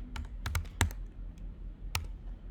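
Keystrokes on a computer keyboard, typed in short irregular bursts of clicks with pauses between them, including one louder clack, close and clear with no talking.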